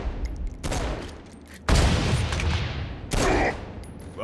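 Bursts of rapid gunfire from weapons in the video game Saints Row: Gat Out of Hell, three loud barrages in quick succession with short gaps between them.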